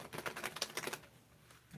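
Tarot cards being warmed up and shuffled by hand, giving a quick run of crisp, clicky riffling flutters that stops about halfway through and leaves quiet room tone.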